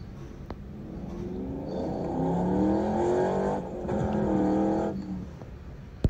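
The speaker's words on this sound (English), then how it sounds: "We wave to Cassie as she and Gaming Master drive off." A car starts up and drives away from a house, the engine rising to a steady drone and then easing off, with a brief knock at the end.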